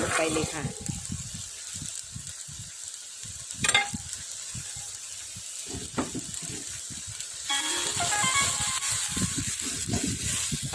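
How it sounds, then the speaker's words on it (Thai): Frog meat stir-fried in a pan with Thai herbs like krachai, fresh cracked peppercorns and chilies gives a steady sizzle with scraping stirs throughout, growing louder near the end, with a voice speaking underneath. "ผัดไปเรื่อยๆนะคะ แล้วเราก็จะเริ่มปรุงรส"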